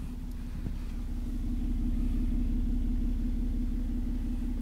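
Steady low exhaust rumble of a 2000 Toyota Aristo Twin Turbo with its 2JZ-GTE engine and larger-bore aftermarket exhaust, heard from inside the well-insulated cabin as a continuous, fairly quiet drone.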